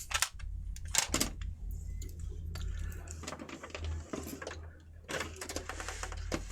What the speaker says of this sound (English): So let me do a quick bobbin change.